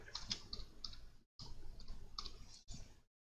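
Computer mouse clicking on a software menu, a series of close, sharp clicks in quick bursts separated by brief silent gaps.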